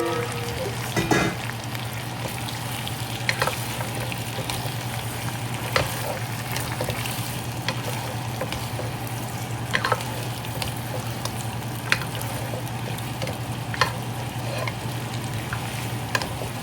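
Marinated pork ribs sizzling in a pan with their marinade sauce, a loud steady crackle and hiss with occasional stirring clatters and scrapes throughout.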